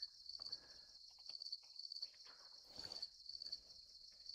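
Crickets chirp steadily outside a house at night in a fast, pulsing high trill that runs throughout, fairly faint and with no talk.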